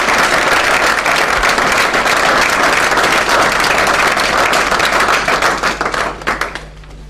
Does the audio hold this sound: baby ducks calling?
no